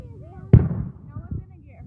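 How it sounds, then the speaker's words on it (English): A single firework bursts with a sharp pop and a short crackling tail, followed by a couple of fainter thuds, while people talk nearby outdoors. "No, look at the fireworks."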